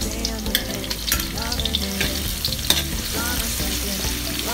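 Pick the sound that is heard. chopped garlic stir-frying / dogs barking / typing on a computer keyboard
chopped garlic stir-frying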